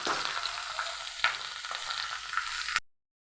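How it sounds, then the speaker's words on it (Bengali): Potato, onion and green chilli fry with curry leaves in hot oil for chow mein, making a soft, steady sizzle with a few stirring clicks. It stops abruptly into silence. "অল্প ভাজা ভাজা হয়ে গেলে দিয়ে দেবো আলু পেঁয়াজ লঙ্কা"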